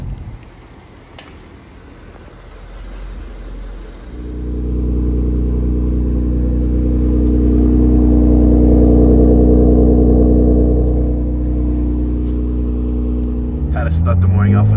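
An Infiniti Q60/Q50 fitted with an Ark Grip exhaust and downpipes cold-starts after a few seconds of quiet, the engine catching with a loud burst and settling into a deep, steady high idle, with a brief rise in revs near the end.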